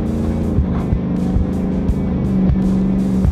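A Ford Shelby F-150 pickup truck drives with a steady, close engine drone heard from inside. Brief dips in the sound mark gear shifts, and no one talks.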